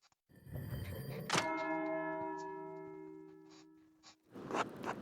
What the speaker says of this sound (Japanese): 時間経過した。 6時間の鐘だ。